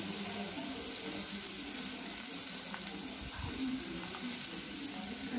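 Chopped onion and ginger frying in hot oil for chili baby corn, a continuous close sizzle with faint stirring scrapes, and no voices over it.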